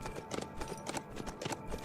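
Horse hooves clip-clopping on a beach in the survival game HumanitZ, quiet rhythmic hoofbeats in quick repeating steps.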